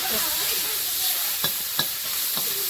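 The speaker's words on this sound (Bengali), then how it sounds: "মাংসের কড়াই ওপাশে দিয়ে এপাশে মাছ ভাজা ফুটছে" Fish fries in a pan beside a pot of meat cooking on the other side, giving a steady close sizzle with occasional sharp spits and stirring scrapes.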